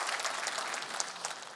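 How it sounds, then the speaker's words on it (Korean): A church congregation claps together in worship, a brief burst of dense, steady applause from many people, fairly close and without speech. "박수로 우리 하나님께 영광 올려드립니다"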